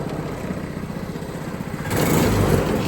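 An old abandoned go-kart engine runs with a steady, throbbing putter, then rises louder as the throttle opens near the end, close and rough with no talking.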